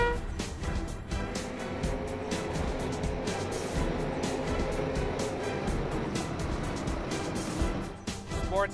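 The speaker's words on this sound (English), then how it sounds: "Sportsmen are racing here off of turn number four" DIRTcar Sportsman race cars charge off turn four on a dirt oval during a championship feature, a continuous loud roar of several engines revving and droning together with crowd and track noise.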